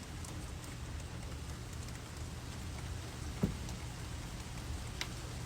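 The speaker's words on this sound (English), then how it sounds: "I just keep looking outside. It's just raining." Soft, steady rain patters in the background, a faint continuous hiss with an occasional isolated drip or tap.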